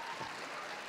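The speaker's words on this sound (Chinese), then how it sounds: "掌声鼓励一下" Audience applause at a live pipa performance, a dense brief patter of clapping heard for under a second.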